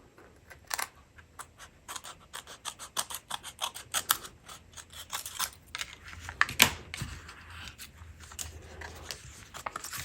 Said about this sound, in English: And then I'll trim off any excess here.